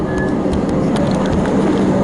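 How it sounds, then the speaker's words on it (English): A train arriving on the Upfield line in Melbourne gives a loud, close, continuous rolling rumble of wheels and carriages, with faint squeals over the noise. "I'll film the train arriving."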